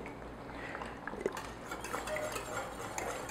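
A spoon scrapes and clinks against a pan while stirring passion fruit sauce, a steady soft motion close by, with occasional small taps of metal.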